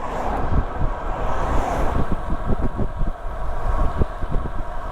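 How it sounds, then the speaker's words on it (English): Strong wind on Exmoor buffets and roars across the microphone in steady gusts, with low rumbling thumps and no voices. "it's really windy now, I don't know if this is usable"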